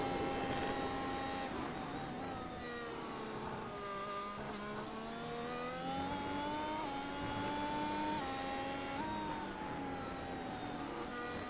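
An F1 race car engine at Hockenheim in the video game F1 Challenge, a loud continuous high-pitched whine rising and falling through gear changes with other car engines layered underneath.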